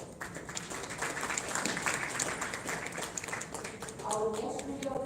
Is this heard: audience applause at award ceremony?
yes